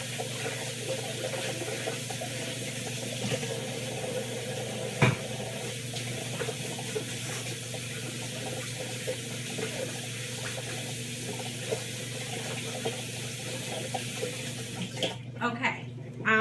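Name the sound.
washing hands under a running tap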